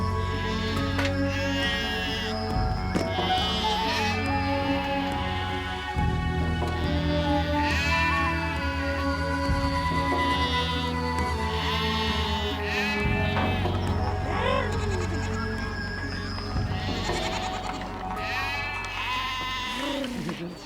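A herd of sheep and goats bleating loudly and continuously on open pasture in the Mongolian Altai, many overlapping calls near and far, with speech heard over the animals.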